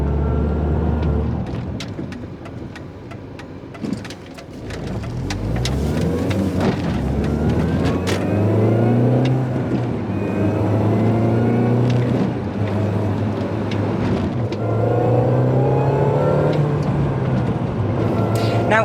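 A 2000s R53 MINI Cooper S engine revs loudly and continuously, its pitch climbing and falling through several throttle sweeps with a steady drone, heard alone without talk.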